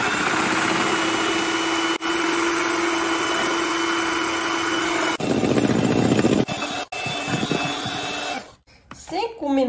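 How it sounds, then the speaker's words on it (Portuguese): An electric hand mixer whips instant coffee with boiling water into a creamy froth. Its motor whirs loudly and steadily, changes tone partway through, then cuts off near the end. A voice speaks over it. "E usando uma batedeira, vamos bater até ficar cremoso."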